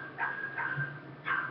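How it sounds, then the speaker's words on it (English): Dogs barking early in the morning at a new house: three short, sharp barks at moderate distance, spaced irregularly over a low steady background, with no talking. "the dogs wake me up"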